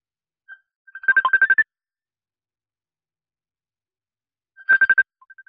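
A phone rings out during an outgoing call: two bursts of rapid electronic trilling ringtone separated by about three seconds of silence, clear and close.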